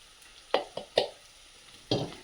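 Poha with green chilies stirred in a frying pan, a faint low sizzle broken by three or four sharp scrapes and clinks of the spoon against the pan.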